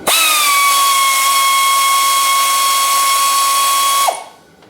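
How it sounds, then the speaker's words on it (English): Pneumatic air ratchet spins continuously for about four seconds, a loud, steady high-pitched whine, while removing a through-bolted engine mount bolt on a 1987 Honda XR200, then stops abruptly with a short hiss. "I have my air ratchet already set up over here."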